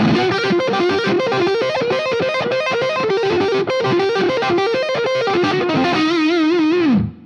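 A distorted electric guitar plays a quick, bluesy run of bent and sliding notes, loud and continuous, ending on a sustained note that cuts off.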